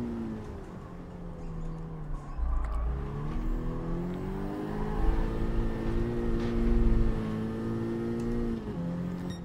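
A Honda Civic's engine in Gran Turismo 7 revving hard under acceleration during a license test, a steady droning whine climbing and dipping in pitch with gear changes, close and continuous.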